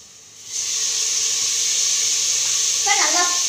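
Chopped tomatoes with green chilli drop into a hot pan for a vegetable kurma and start a loud, steady sizzling hiss. A voice speaks briefly near the end.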